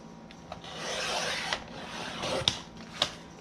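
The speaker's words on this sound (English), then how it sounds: "I'm going to put this in my cutter, and I am going to trim it down" A paper cutter trims a box top with a steady rubbing, scraping pass, followed by a few sharp clicks near the end.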